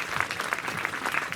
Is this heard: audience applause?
yes